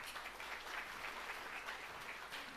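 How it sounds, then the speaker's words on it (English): Conference audience at a data quality and AI event applauds a panelist, faint, steady crowd clapping heard from a distance with a low hum underneath. "Let's give a big round of applause for him."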